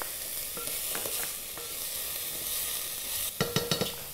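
Chilies and about half a chopped onion fry in a pan for a Punjabi thali dish, giving a steady sizzle with a few clattering stirs and a short burst of scraping near the end.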